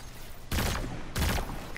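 Two loud bursts of gunfire in Destiny, a legendary Lost Sector, fired in quick succession about half a second apart, each a broadband crack with a short rolling tail, no talk over them.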